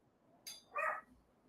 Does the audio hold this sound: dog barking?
yes